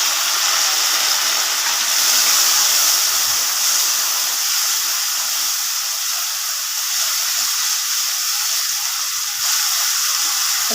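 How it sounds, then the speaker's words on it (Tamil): Chopped tomatoes hit a pan of fried onions and curry leaves, giving a steady, loud hiss of sizzling that holds evenly for about ten seconds with no voices. "இப்போ 2 தக்காளி பழம் அரிஞ்சு வச்சுருக்கிற போட்டுடலாங்க"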